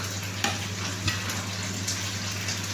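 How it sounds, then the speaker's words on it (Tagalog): Continuous sizzling of food frying in a pan, with a low steady hum and a few soft clinks of stirring. "Tapos nagpiprito pa rin ako ng sa akin."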